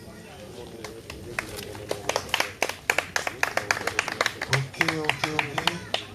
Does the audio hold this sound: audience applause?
yes